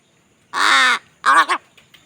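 A crow caws loudly and close by in three harsh calls: one long drawn-out caw, then two shorter ones in quick succession, with no talking.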